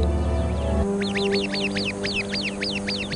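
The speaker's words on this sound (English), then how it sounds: "The sentry bird immediately sounds the alarm." A sentry bird in a flock gives an alarm call, a fast series of sharp, repeated downward-sweeping calls in a steady rhythm, loud and close, after a brief lower sound at the start.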